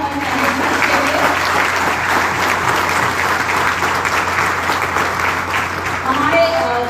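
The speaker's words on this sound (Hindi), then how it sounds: "तो जोरदार तालियां हमारे मैनेजमेंट के लिए।" An audience claps loudly and steadily throughout, honouring the management at a company event, with a dense, sustained applause texture and faint voices mixed beneath.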